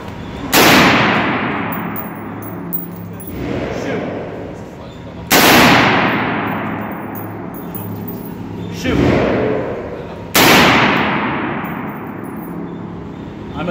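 Four loud gunshots from a G36 rifle crack out at a few seconds' spacing, each decaying into a long reverberant tail, at an outdoor range with a voice speaking between shots.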